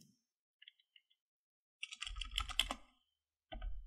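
Keys clatter on a computer keyboard while someone codes in Swift, first as a few isolated taps, then a dense burst of fast typing, a pause, and a final flurry of keystrokes, close and fairly quiet.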